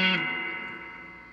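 One distorted chord rings out from an electric guitar through a 1978 Roland GA-20 solid-state 12-inch amp, struck once and left to sustain and slowly fade, with no voices.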